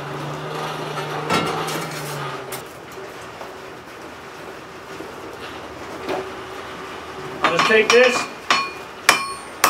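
Hammer blows forging a railroad spike into a hatchet, sharp metallic ringing strikes clustered near the end, with a lighter clang early on and a brief spoken remark in between.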